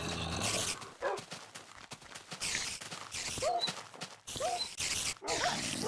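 Dogs (tamed wolves) in the Minecraft video game whimpering when hurt: several short rising whines in quick succession over busy in-game noise and footsteps.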